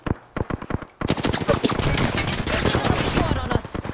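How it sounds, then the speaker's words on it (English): Rapid gunfire in the video game Apex Legends: a few sparse shots, then a dense, loud burst of automatic fire that continues steadily with overlapping shots. "Taking fire, brothers."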